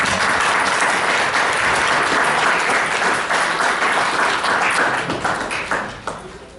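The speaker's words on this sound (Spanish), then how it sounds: "a quien recibimos con un fuerte aplauso" Sustained applause from a forum audience at a university panel, dense and steady clapping that holds strong before tapering off toward the end.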